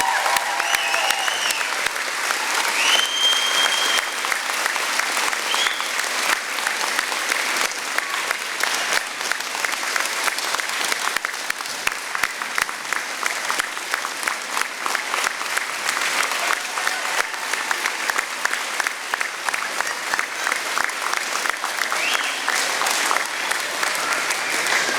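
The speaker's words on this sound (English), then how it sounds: "Give Dave Strain a big round of applause" A graduation audience gives a long, sustained round of applause for an honoree, dense crowd clapping that holds at a steady level throughout with faint voices and whistles scattered within it.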